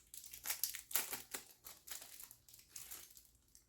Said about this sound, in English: I got unwrapping ASMR.